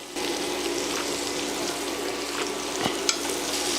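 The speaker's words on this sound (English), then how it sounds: "Now we're gonna add our butter." Butter melts and sizzles in a pan with garlic and crushed peppers for smothered chicken gravy, a steady close frying crackle with a faint clink of a utensil near the end.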